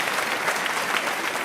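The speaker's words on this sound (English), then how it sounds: "thank you, digital applause." Applause during an online theatre awards ceremony, a dense, even wash of many hands clapping continuously at moderate loudness with no voices over it.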